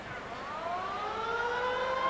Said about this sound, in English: As the half-time siren sounds